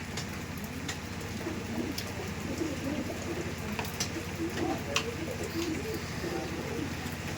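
Pigeons of the Andhra breed coo steadily in a close, busy loft, soft repeated calls overlapping against constant low background noise.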